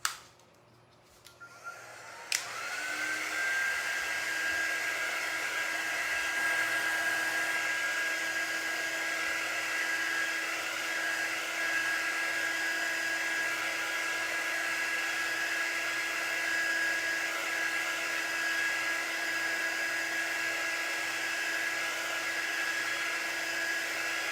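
A hair dryer runs close and steady for over twenty seconds, drying a breast cancer awareness craft project, with a constant loud blowing whine after a brief click as it switches on.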